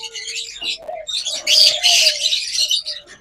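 Pet lovebird breeding pairs chirp nearby in quick, bright bursts that grow busier and louder toward the middle, with a few lower cooing notes mixed in.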